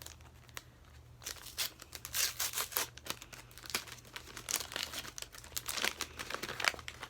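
Star-patterned wrapping paper is torn and crumpled off a book, a close run of loud crinkling rustles and rips that builds after a quiet opening.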